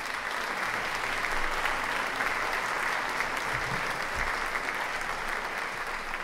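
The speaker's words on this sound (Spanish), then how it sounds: "fuerte el aplauso" Sustained audience applause fills a theatre in Rosario, dense steady clapping from a large crowd holding at an even level throughout with no voices over it.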